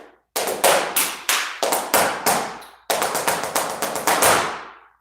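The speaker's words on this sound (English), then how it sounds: "It's clapping." Sharp, loud hand claps ring out close by in a quick rhythmic pattern during a flamenco dance lesson, arriving in two clustered runs of about a dozen claps with a brief pause between, and no talking.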